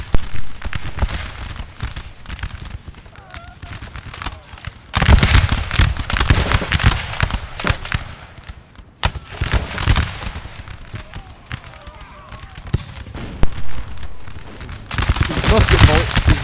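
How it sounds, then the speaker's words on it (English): Musket volleys crackle continuously in a Napoleon Total War battle in a forest, Prussian and French lines trading dense, rolling bursts of loud gunfire that swell and fade, with talk underneath. "These musket volleys are glorious."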